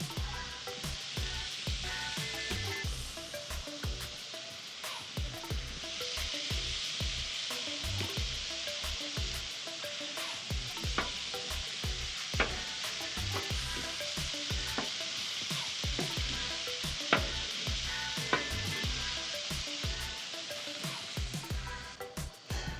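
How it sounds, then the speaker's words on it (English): Regular and crack burger patties fry on a hot griddle, giving a dense, continuous sizzle with crackling pops and repeated scraping and stirring clatter, close and steady with no talking. "put our regular patties on first. Crack burgers on second."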